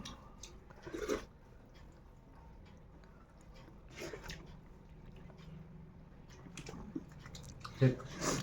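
Someone eats mung dal cooked with radish and bori, making soft, intermittent close chewing and wet mouth sounds amid quiet room tone, with a few sharper clicks and brief talk.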